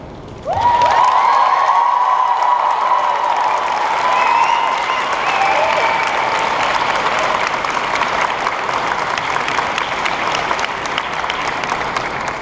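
Graduates at a 2014 psychology commencement erupt in loud, sustained cheering and applause, with whoops and shouts rising over a continuous wash of clapping that stays strong throughout.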